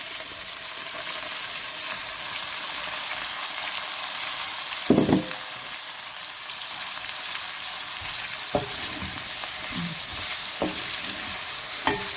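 Potatoes and cauliflower fry in a pan with a steady, even hiss of oil, broken by a few sharp clanks and scrapes of a utensil stirring the pieces.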